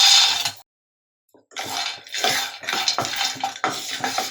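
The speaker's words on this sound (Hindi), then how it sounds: "इसको हम हल्का सा फ्राई कर लेते हैं।" Cashews, almonds and raisins being fried in desi ghee, with rhythmic scraping and stirring of a spoon against a pan over soft sizzling, close by, with a brief silent gap near the start.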